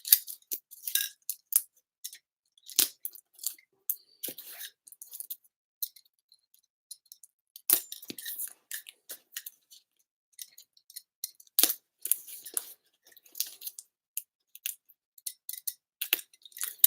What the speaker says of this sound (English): A lot of tape, where it takes extra long to open it